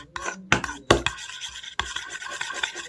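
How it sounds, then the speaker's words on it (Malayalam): A spoon stirs homemade moisturizer cream in a container, giving close, scraping and rubbing strokes in irregular bursts with brief pauses between them. "നന്നായിട്ട് ഇളക്കി കൊടുക്കുക."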